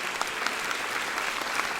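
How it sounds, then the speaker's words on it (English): An audience at an astronomy expo talk applauds the AV crew, a short stretch of steady, even clapping with no voices. "Give them a big round of applause for everything they're doing to make this successful."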